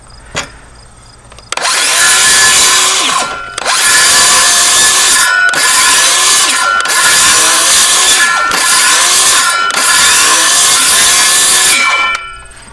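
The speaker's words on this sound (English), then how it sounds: "And now I can simply run my saw back and forth through the center section." Hand saw cutting back and forth through wood for a chicken tractor, six long, loud rasping strokes in a steady rhythm with brief pauses between them, close up and without talk.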